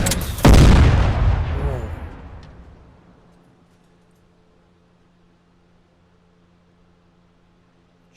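A rocket launcher fires in the Drive Beyond Horizons driving game: one sudden loud blast that rolls off into a long fading rumble over several seconds, with a brief exclamation from a voice at the start.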